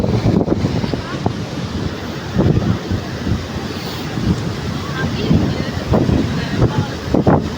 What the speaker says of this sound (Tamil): தண்ணி பாரு எப்படி கடல் மாதிரி ஓடுது